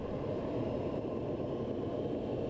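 Steady, loud broadband engine drone fills the cargo hold of a C-17 Globemaster aircraft in flight, a constant dense rumble with no breaks and no voices.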